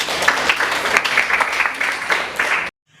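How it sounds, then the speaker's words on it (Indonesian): Applause after a class presentation in a classroom, many hands clapping in a dense steady patter that cuts off abruptly into silence. "terima kasih, kita kasih aplaus untuk"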